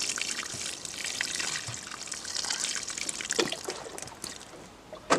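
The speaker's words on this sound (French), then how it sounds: "donc tu mets de l'eau dessus." Water pours onto garden soil to moisten it, a steady close splashing trickle with a few louder gushes and no talk.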